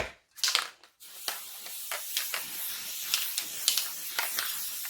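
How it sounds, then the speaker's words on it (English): Short hissing bursts of aerosol basting spray on fabric, several quick sprays in an uneven rhythm, close and fairly quiet. "take my basting spray"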